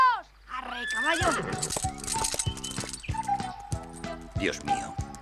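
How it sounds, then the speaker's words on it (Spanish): A horse whinnies loudly in a rising-and-falling neigh, followed by a rhythmic run of hoof clip-clops on a hard surface, with a rattling cart sound in an animated scene. "¡Arre, caballo!"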